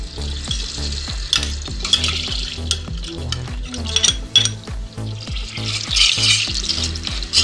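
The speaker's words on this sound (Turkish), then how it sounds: "Yağımızı erittikten sonra salçamızı koyup biraz kavuruyoruz." Tomato paste fries in melted sunflower oil and butter in a pot for thimble pasta soup, a loud dense sizzle broken by repeated scraping stirs of a spoon against the pan.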